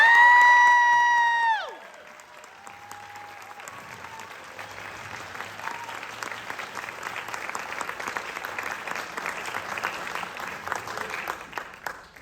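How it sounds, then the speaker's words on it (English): After a held chord from a high school concert band fades out, the audience at the spring school concert breaks into broad applause, a dense crowd of clapping hands that holds steady and swells slightly toward the end. "Let's give them a round of applause."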